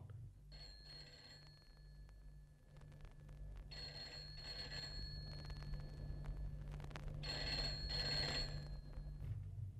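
A telephone rings in bursts in a Hindi radio play, with three repeated electronic ring bursts over a steady low hum, moderately faint and with no talk.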